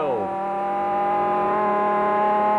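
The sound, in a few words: racing superbike engine revving at 11-12,000 rpm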